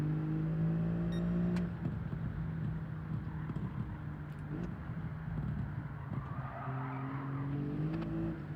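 Car drifting in Gran Turismo 7, with tyres squealing in long sustained howls over a steady engine drone, close and loud throughout.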